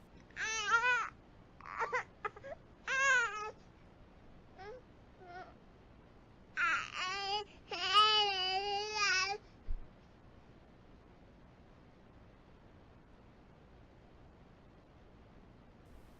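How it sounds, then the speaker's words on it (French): An infant babbles and wails in a few harmonic, wavering bursts over roughly ten seconds, loud and close, then quiet room tone for the remainder. "Puis ce son d'un bébé qui semble pleurer."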